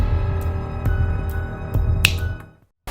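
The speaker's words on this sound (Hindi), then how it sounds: "जब आपको चुटकी की आवाज सुनाई देगी तब आपको नींद आने लगेगी" Several sharp finger snaps ring out at roughly even intervals over a steady hum-like background, the loudest near the end, then silence.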